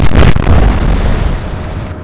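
A loud naval gun blast in Atlantic Fleet, a World War II sea battle game involving a German pocket battleship, lands as one heavy boom whose deep rumble lingers and slowly fades.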